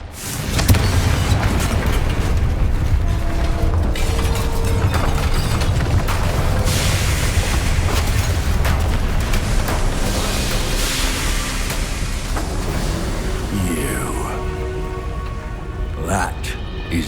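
A loud, sustained blast from the Confringo fire spell in Hogwarts Legacy rumbles and crackles continuously, a heavy roar of explosive noise that slowly fades toward the end, with a voice calling out over it.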